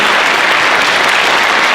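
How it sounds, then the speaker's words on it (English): Steady, dense applause from a school band concert audience, loud and continuous throughout, with no voices over it. "We'll give her another big round of applause."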